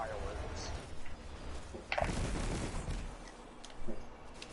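Firefly perk explosions and gunfire in Destiny 2 pop and crackle in bursts of sharp blasts and firing, fairly faint, with someone talking over the action.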